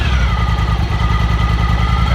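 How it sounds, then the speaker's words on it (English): Honda Talon side-by-side engine idling steadily in park, a loud, even low-pitched rumble with a regular pulse and no talk over it. "So there you go, it's idling fine, the Talon is in park."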